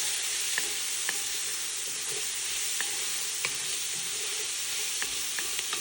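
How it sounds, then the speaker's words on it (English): Vegetables sautéing in a pot for Guinness beef stew give a steady, close sizzle, with a few light clinks from stirring scattered throughout and no one speaking. "I'm going to saute these a bit."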